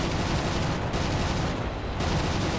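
Continuous rapid machine-gun fire from a Bf 109 F4 fighter in the War Thunder video game, a dense, loud, unbroken stream of rounds with slight dips in intensity over a couple of seconds.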